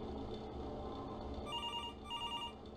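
Telephone ringing inside the horror video game The Return to Freddy's, a steady electronic bell trill that swells in two rings over a continuous low background hum.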